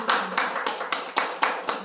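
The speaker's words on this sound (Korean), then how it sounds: "황대신 목사님 열정에 박수 드립니다." Clapping at a church gathering, a sparse, evenly spaced run of about eight crisp hand claps nearby, each sharp hit ringing briefly in the room before the next, with no talking.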